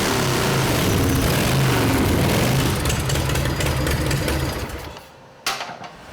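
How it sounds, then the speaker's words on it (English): A custom motorcycle engine with a weak magneto spark runs at a loud, steady rapid chatter while being tuned, then dies away, followed by a single sharp knock. "Larry listens carefully to the heartbeat of his engine, tuning and refining."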